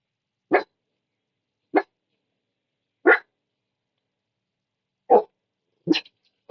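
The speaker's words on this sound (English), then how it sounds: "The dogs have lost their minds." Dogs in the Clan Gen video game give five short, isolated barks, spaced irregularly over several seconds against silence, the last two closer together.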